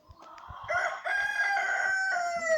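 A Nigerian native chicken rooster crows nearby in a long, drawn-out call that rises and holds, with a few soft clucks and farm noises in the background.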